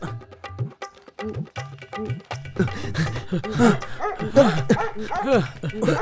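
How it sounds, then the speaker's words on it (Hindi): A dog that has slipped its chain lets out a string of short barks, yips and whimpers, loud and close, while people talk excitedly over and between the sounds. "मैं कुत्ते का ओनर हूँ। ये चैन छोड़ा के भाग रहा था"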